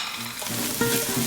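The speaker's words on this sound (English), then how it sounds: "Here it's sizzling away." Carrots and other vegetables sizzle and crackle in a hot pan, a steady close frying hiss with light stirring, no talking.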